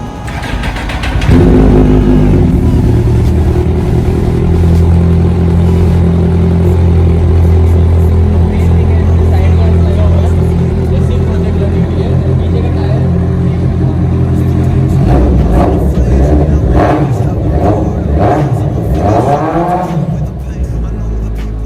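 Discontinued, second-owner Kawasaki Z800 superbike starting and idling with a deep, loud rumble, then revved hard in several rising and falling bursts toward the end.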